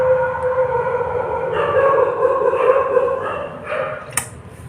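Several dogs bark and howl outdoors in a long, wavering chorus that rises and falls over a steady low background, with a brief sharp sound near the end.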